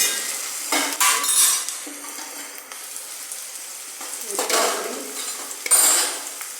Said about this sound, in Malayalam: കറിവേപ്പില ഇതിട്ട് ഇളക്കണം ഇളക്കി ഇളക്കിയ ശേഷം മതി